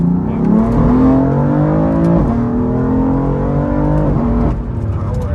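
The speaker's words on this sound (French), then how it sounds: "J'aime trop quand tu passes tes rapports, le bruit que ça fait derrière" A BMW M3 engine in sport mode revs loudly and climbs in pitch, dropping briefly at each gear shift before rising again, heard up close.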